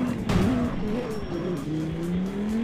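A Lamborghini engine in the CarX Street driving game holds a sustained, loud droning note that rises and falls in pitch as the car revs, with a brief squeal-like edge and no talking.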